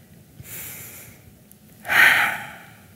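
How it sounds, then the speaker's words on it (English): Slow, deep breathing during a calming wellness exercise, with a soft inhale followed by a louder, longer exhale close to the microphone, heard alone. "As we slow our breathing down,"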